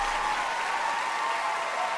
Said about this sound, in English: Listen to the crowd. That is an ovation deserved.